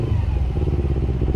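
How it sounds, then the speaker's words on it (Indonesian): A used Kawasaki Ninja 250FI motorcycle engine, running after a tensioner replacement, rumbles steadily up close with a dense, slightly uneven low pulse and no speech over it. "gue cobain tuh si motor, gue nyalain. Nah, nyalain motornya hidup"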